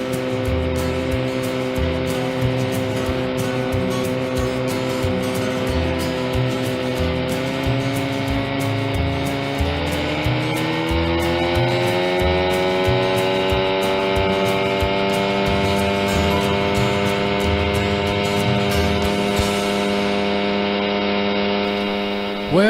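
A 15 HP Johnson outboard motor runs steadily and loudly up close, its droning engine tone shifting upward partway through as the throttle changes, then holding a continuous hum to the end.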